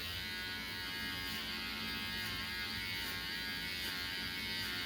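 An electric hair clipper fitted with a 2 guard (6 mm, 1/4 inch) buzzes steadily and close up through a home haircut, a constant high-pitched motor drone with no talking.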